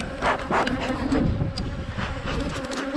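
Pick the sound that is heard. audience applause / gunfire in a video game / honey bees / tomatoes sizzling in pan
honey bees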